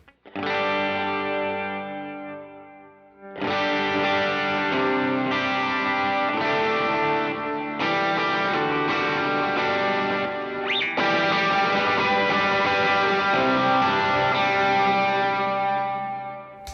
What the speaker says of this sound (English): I can switch between the two reverb presets I have set up, and then with the dual drive on the dualist, I can switch between the two